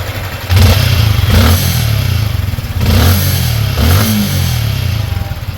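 A Yamaha Sniper 155 motorcycle engine, repaired after an over-adjusted manual timing chain tensioner, idles steadily and rather smoothly up close, with a few light throttle blips and a faint mechanical clatter.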